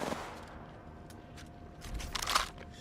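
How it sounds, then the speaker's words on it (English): A shotgun fires in a video game: a few sharp, moderately faint blasts spaced irregularly, the loudest pair coming close together near the end. "Shotgun bolt."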